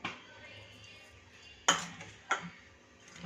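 Spoon scraping and clinking in a pan while spice masala is mixed into hot cauliflower, two sharp metallic knocks over quiet soft stirring, no voices.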